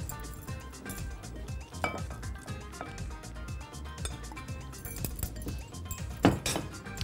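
A utensil clinks repeatedly against a bowl while carrots are stirred into a thick yogurt and tahini sauce with olive oil, thyme and coriander, producing busy, close metallic taps and scrapes that continue throughout.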